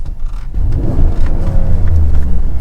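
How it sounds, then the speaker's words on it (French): A close, loud GMC Yukon XL SLT engine rumble, in neutral, that swells as the revs climb, a deep steady growl holding throughout with no voices. "pour écouter le bruit du moteur."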